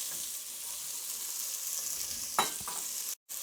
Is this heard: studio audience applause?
no